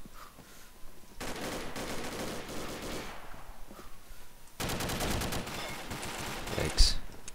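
Sustained automatic gunfire in the shooter game Combat Arms, two long rattling bursts of rapid, loud shots separated by a short pause, with voices underneath.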